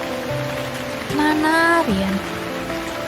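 Heavy rain pours steadily through a late-night storm with thunder, a constant wash of noise beneath a short spoken question.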